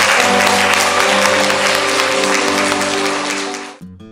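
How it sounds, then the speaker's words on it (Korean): Audience applause after a Korean meditation talk, a dense, loud wash of clapping with faint music tones underneath, fading out abruptly near the end. "박수 한번 주시기 바랍니다."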